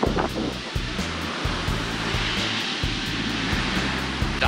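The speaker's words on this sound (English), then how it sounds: "These waves are huge." Loud, roaring surf at a Puerto Escondido beach in Oaxaca, Mexico, with a broad wash of large crashing waves, heavy rumble underneath and wind buffeting the microphone.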